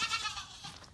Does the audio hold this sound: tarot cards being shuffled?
no